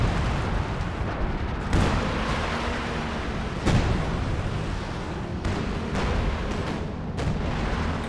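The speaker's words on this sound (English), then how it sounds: "Artillery" Artillery fire in the real-time strategy game Company of Heroes 2 during a 2v2 match, with a couple of heavy booms landing among a continuous rumble of battle noise.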